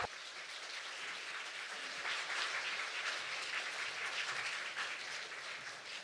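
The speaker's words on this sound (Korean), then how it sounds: "여러분들 다시 한번 큰 박수로 좀 주세요." An audience at an education symposium applauds after a lecture, a faint but sustained wash of many hands clapping that swells slightly midway and carries on without any talk.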